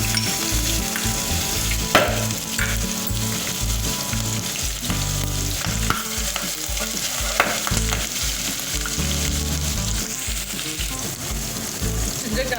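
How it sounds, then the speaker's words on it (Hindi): Ginger garlic paste sizzling in hot oil for a chicken chopsuey, a loud continuous fry crackle broken by sharp stirring scrapes and clinks, with no voices over it. "जब ऑयल अच्छे से गर्म हो जाए तो इसमें जो है मैं जिंजर गार्लिक पेस्ट वो शामिल कर दूँगी"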